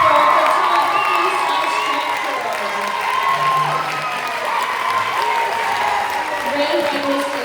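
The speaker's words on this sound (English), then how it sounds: "Can we please stand up and give a huge round of applause for our photography" A school fine arts retreat audience claps and cheers for the photography team, a dense, steady wave of applause with whoops and shouting children throughout.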